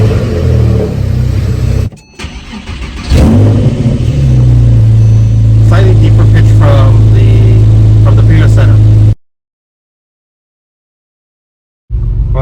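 A Porsche engine fitted with new headers starts and revs close by, a loud, deep rumble that rises and falls with throttle blips, then stops dead before a short return at the end; a voice speaks briefly over it.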